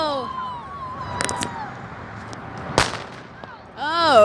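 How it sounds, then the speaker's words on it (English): A small firework bursts in a parking lot with one sharp, loud crack, preceded by a couple of fainter pops, while voices talk before and after it. "Oh yeah, that's a fireworks!"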